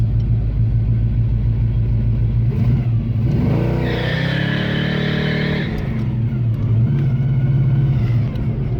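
A cheap Ford Mustang, damaged and parked for over ten years, revs hard and spins worn tires while heading downhill, a loud engine roar rising with a tire squeal in the middle, close and continuous without talk.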